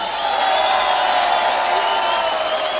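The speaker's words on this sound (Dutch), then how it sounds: "Geef ons een daverend applaus." Large festive crowd at a Limburg carnival closing show with Beppie Kraft applauding and cheering, a dense, steady roar of clapping and voices that holds at full volume throughout.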